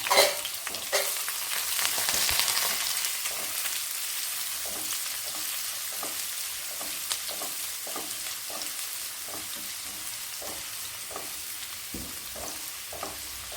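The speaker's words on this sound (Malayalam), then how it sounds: "ഒരു മൂന്ന് നാല് ഇതള് കറിവേപ്പില ഇതെല്ലാം കൂടി ഇട്ട് നമ്മളൊന്ന് വഴക്കിയെടുക്കുകയാണ് കേട്ടോ" Curry leaves, dried and green chillies and snake gourd sautéing in a hot pan for a Kerala thoran, a steady close sizzle broken by repeated scraping stirs of a spoon, with no speech.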